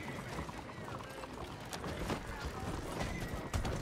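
A horse in a video game gallops with steady clip-clop hoofbeats and neighs loudly, under dense game noise and someone talking excitedly over it.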